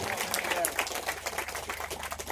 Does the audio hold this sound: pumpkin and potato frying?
no